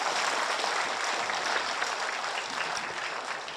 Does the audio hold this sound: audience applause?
yes